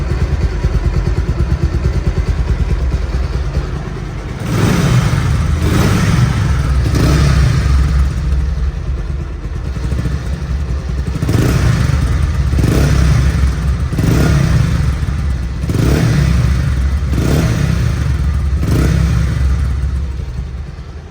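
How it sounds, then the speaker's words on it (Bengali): A 2019 Bajaj Pulsar motorcycle, second-hand and in clean showroom condition, idles close by and is revved repeatedly in steady, rhythmic surges, loud and alone without any talk. "সাউন্ডটাও কিন্তু একদম শোরুম কন্ডিশন সাউন্ডই আছে পালসার পালসারই ঠিক আছে"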